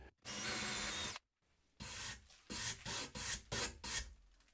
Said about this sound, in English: I am drilling a small 30 millimeters deep pilot hole